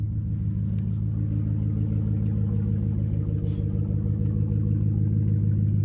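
A 1976 Ford Crew Cab pickup engine with an exhaust broken in half idles with a deep, steady, throaty rumble, close and loud, continuous throughout.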